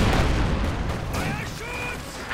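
Aircraft strafing runs in the World War II strategy game Company of Heroes 2 make a dense, continuous rumble of gunfire and explosions, with a whistling aircraft tone passing over the noisy battle mix.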